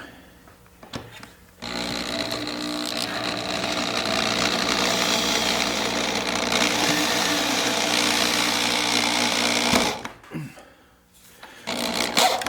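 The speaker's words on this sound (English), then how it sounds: "I'm going to put the screw in and then drill the top hole." A power drill drives a screw with a steady mechanical motor whine for about eight seconds, loud and continuous, then cuts off, with brief handling noises before and after.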